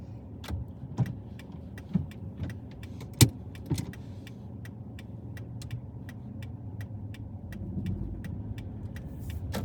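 A car is driven on a driving lesson on city roads in Brovary, with a low steady cabin drone, soft road rumble and regular faint ticking clicks inside the cabin.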